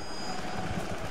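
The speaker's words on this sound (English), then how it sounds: "Helicopters are headed your way." Helicopter rotors in the Rise of the Tomb Raider game, a steady, even chopping drone at moderate loudness that holds without a break.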